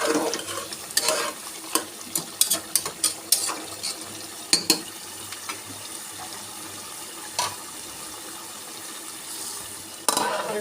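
Beef fries in a pan with no water added yet. A spoon stirs and scrapes it in a flurry of close strokes that thin out over a steady, gentle sizzle, then a last scrape comes near the end.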